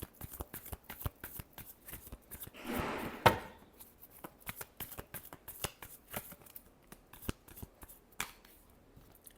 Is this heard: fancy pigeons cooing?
no